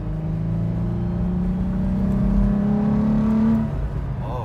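A Toyota 4Runner engine fitted with a TRD cold air intake, heard from inside while driving: a steady, loud drone with rising intake and engine tone through most of the stretch, easing off near the end, with no talk.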